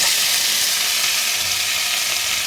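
Fish frying in a generous amount of oil, giving a steady, loud, dense sizzle that holds unbroken from start to finish with no voices.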